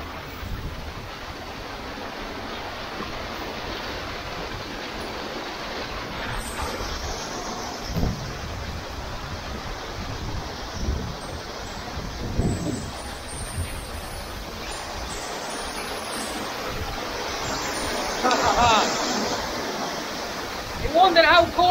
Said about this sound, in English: We're going lower to the second waterfall